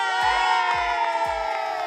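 A crowd of fans cheers and whoops for a contestant named Natanael during a reality game show, with loud, sustained voices and rhythmic rising shouts repeating about three times.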